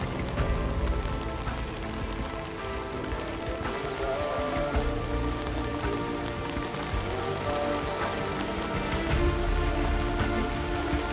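Steady rain patters on a surface over wheat fields, a constant close hiss with scattered sharper drops and no voices.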